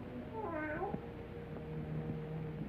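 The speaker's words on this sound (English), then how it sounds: "keep that cat from desecrating my graves" A cat lets out a single rising-and-falling meow in a quiet graveyard setting, fairly close, followed by faint low background tones.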